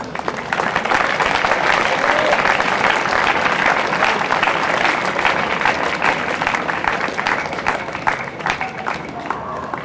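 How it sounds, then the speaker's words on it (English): At a college prize day, a large audience gives loud, thick, continuous applause, with many hands clapping at once for about ten seconds. "I ask for them, ladies and gentlemen, a special round of applause."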